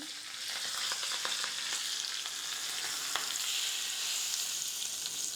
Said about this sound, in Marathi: दोन मिरचीचे तुकडे मी टाकलेले आहेत फोडणी आपल्याला जळू द्यायची नाही